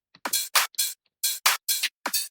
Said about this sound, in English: which are these UK garage hats.